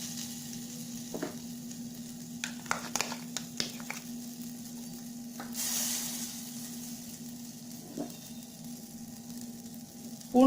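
Butter softly sizzles in a soup pot under a steady hum, with scattered clinks and scraping of a utensil and a brief louder hiss midway.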